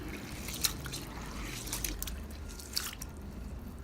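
Black rice being rinsed in water, with soft continuous trickling and dripping, a couple of brief sharper splashes standing out over a steady wet background.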